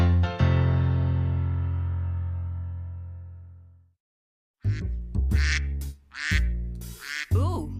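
A toy plays a duck sound: a long sustained tonal note fades out, then after a short silence a series of loud, close, nasal quacks follows, several in quick succession.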